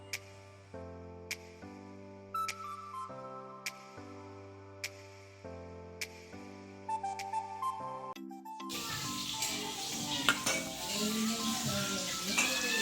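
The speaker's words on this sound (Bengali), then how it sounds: "পটল ভাজা হচ্ছে" Pointed gourd (potol) fries in a pan on a home stove. Several seconds of sustained, stepped musical tones come first; then a busy sizzle with crackles and faint utensil clinks takes over for the final few seconds.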